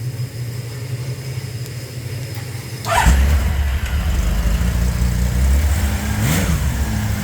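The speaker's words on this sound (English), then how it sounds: "That's a Manic Mechanic tuned 6-cylinder right there." Tuned six-cylinder Honda CBX motorcycle engine running close by, a steady low idle that is blipped sharply after a few seconds and then holds a higher, busier running note with another throttle rise near the end.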